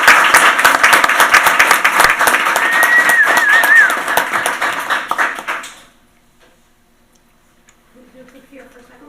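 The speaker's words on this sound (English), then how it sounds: "good round of applause for all of our CAP volunteers" A room of people at a town board meeting gives a round of applause for volunteers, loud dense clapping that lasts several seconds, then fades out to quiet before faint voices return.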